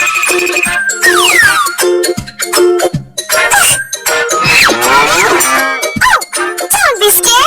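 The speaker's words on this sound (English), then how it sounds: "It's a cow from the herd, and it makes sound" A cow from a herd mooing loudly and close, several drawn-out bellowing calls with sliding pitch, with what sounds like a cowbell clanking between them.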